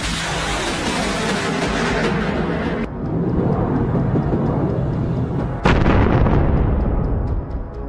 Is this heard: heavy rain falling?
no